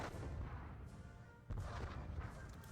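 Artillery guns fire in the John Tiller Napoleonic battle game, Battle of Dennewitz, as a rolling, muffled boom with a sharper report midway, heard faintly and without talk.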